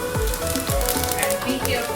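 A teaspoon of cumin seeds sizzles in hot oil while a curry is cooked, a steady close crackle with a few dull knocks from a utensil against the pan.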